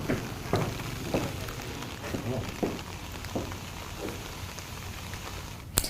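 Heavy rain falls in a Gujarat village as a steady, dense hiss with occasional heavier drop thuds, heard continuously and fairly close.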